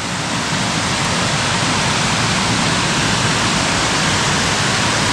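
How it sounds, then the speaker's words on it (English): Waterfall on the River Ouseburn, a small river, roaring as a steady, dense wash of falling water that stays loud and close, with no other sounds standing out. "That's where the water falls."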